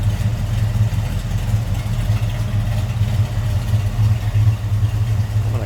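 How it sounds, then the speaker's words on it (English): A 1967 Chevrolet Camaro engine with a mild cam idles steadily with a low, throaty rumble, continuous and fairly close, with no voices over it. "Mild cam, a little bit of a rumble out of it"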